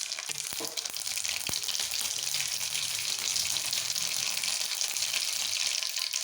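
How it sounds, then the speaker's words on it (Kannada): Mustard seeds splutter in hot oil while vangibath gojju is being cooked. A dense, bright, continuous sizzle with scattered pops and crackles runs throughout, close and steady, with no talking. "ಈಗ ಎಣ್ಣೆ ಕಾದಿದೆ ಈಗ ನಾವು ಸಾಸಿವೆ ಹಾಕ್ಕೊತಾ ಇದ್ದೀವಿ"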